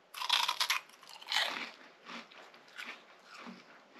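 Close, loud crunching and chewing of freeze-dried gummy candy in several bursts, the first crisp and strong, later crunches softer and more spread out.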